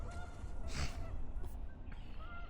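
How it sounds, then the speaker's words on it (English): Geese honk a few times at a distance over a steady outdoor background rumble, the calls moderately loud and irregular. "them geese are really distracting"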